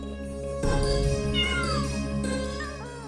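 A cat meows loudly and close in a few drawn-out, wavering cries over a steady hum of background music.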